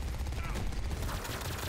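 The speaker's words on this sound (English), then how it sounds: "I hear shooting" Gunfire in the Grapple Tournament video game, a dense rattle of shots running steadily through the whole brief stretch at moderate loudness, with game voices mixed in.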